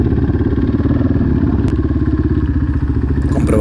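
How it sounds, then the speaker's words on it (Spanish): A Dakar rally motorcycle starts off to collect its roadbook, its engine loud and close in a rapid, throbbing rumble with some clattering, steady throughout. "A la señal, Marc arranca para recibir su roadbook y poder ponerlo en la moto."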